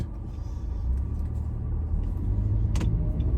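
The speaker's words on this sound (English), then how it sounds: "I don't know what that car's doing." A car passes on a road outside, a steady low rumble that swells and holds through the clip, with a brief sharp click near the end and no talking.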